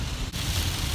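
Heavy rain heard from inside a moving car on the road, a dense, steady broadband wash of drops with a low rumble underneath, continuous and fairly loud throughout the short stretch.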